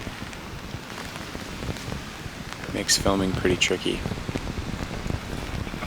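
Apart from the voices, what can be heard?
rain falling while filming wood storks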